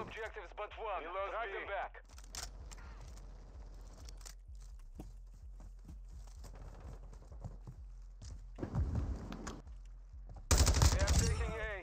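Rapid gunfire in a competitive shooter video game, with volleys of sharp repeated shots and a loud burst near the end, while players talk over the action.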